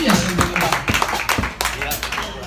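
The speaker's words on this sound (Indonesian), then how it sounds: "Beri tepuk tangan yang luar biasa." A church congregation claps during an anniversary service, sharp, irregular claps from a crowd close by, mixed with voices talking over them.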